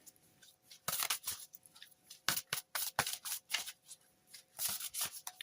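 Tarot cards shuffled by hand in a quick, uneven run of crisp papery flutters and slaps, close by and moderately loud, with short pauses between bursts and no voices.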